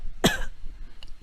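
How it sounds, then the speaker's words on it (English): A short, sharp cough stands out clearly in a quiet room, and a second cough begins right at the end. "we should cough with dignity"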